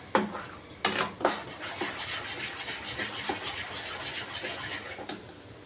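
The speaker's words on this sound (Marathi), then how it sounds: "आणि असं चांगलं फेटायचं" Carrot and beetroot breakfast batter whisked in a bowl, a few sharp utensil clinks on the rim up front, then a steady, quiet wet stirring that carries on without talk.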